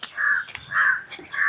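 Crows caw in a home setting: three harsh, drawn-out calls spaced about half a second apart, fairly close and clear, with no talking.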